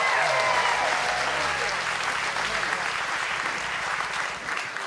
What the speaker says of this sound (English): clap your hands and go crazy